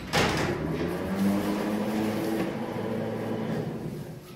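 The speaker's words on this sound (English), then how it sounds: "So this is how they get the cars upstairs in the convention center. We're on the car elevator." A car elevator in a convention center hums steadily as it carries cars upstairs, a low mechanical drone with a soft clunk at the start.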